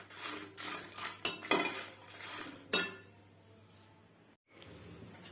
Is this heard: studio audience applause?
no